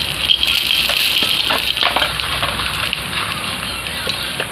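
Mustard oil with two dried red chillies sizzles in a hot pan. A steady bright hiss carries faint crackles and pops throughout, close and continuous.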